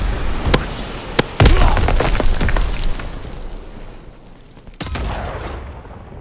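Sharp bangs and blasts from Call of Duty WWII go off in quick succession as a bomb charge explodes, some loud and close, with rumbling booms and scattered gunfire in between.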